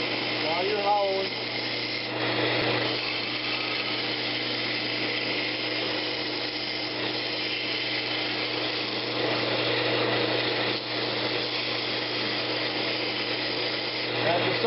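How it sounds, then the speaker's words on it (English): A woodturning lathe runs as hollowing and smoothing cuts are made inside a Brazilian cherry lidded box: a steady, close whirring hum with a scraping texture that goes on unbroken, with only slight dips in level. "I'm making little smoothing cuts at the same time so I don't get all messed up down in there."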